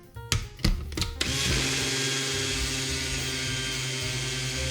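A Cocinare GoPower eLite portable blender whirs steadily after a few brief bumps and clunks, settling into a loud, continuous motor drone with a hissing blade churn.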